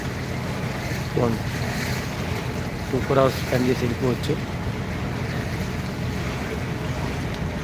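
Continuous rumble of a tourist boat engine on the Alleppey backwaters with wind and water noise, someone speaking over it in short bursts.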